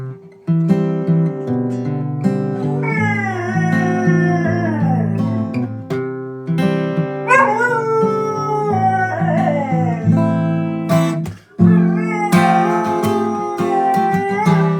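Dog howling in a drawn-out, singing way, its wavering, pitch-sliding howls rising and falling continuously over a steady musical accompaniment, with a brief break near the end, close and loud.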